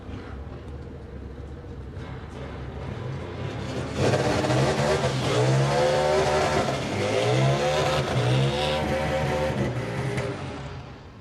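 Drag racing motorcycles, an 08 Buell and a 2014 Harley-Davidson V-Rod, roar down a quarter-mile strip, engines revving loudly and rising through gear changes over several seconds before fading slightly at the end.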